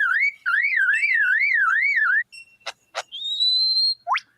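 A lyrebird mimics a car alarm: a loud, close, warbling siren that rises and falls in regular waves, then a few sharp chirps and a sustained whistled tone. The bird's voice is imitating the alarm.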